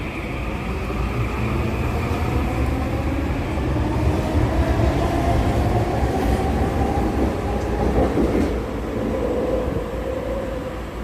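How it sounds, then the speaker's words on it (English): An inbound Millennium Line SkyTrain heading toward Waterfront Station in British Columbia rumbles steadily and loudly past for about eleven seconds, a continuous rail roar with faint wheel clatter and no voices. "That's the inbound train heading up to Waterfront Station."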